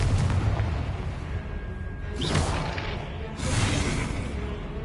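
Booming fiery blasts from the Confringo spell in Hogwarts Legacy, two loud bursts with whooshing rushes, rolling over a dense rumbling bed of continuous noise.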